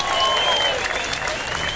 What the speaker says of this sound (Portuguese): Vamos aplaudir aí, pessoal!